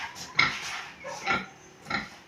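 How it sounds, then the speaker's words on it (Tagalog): Breeding sow on a farm, giving three short grunting oinks spaced about a second apart, fairly close and quiet, with faint clinking in between. "Ari pong baboy na inahinin po namin ulit."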